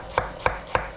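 Onions are roughly chopped with a knife on a board, three evenly spaced, crisp close chops.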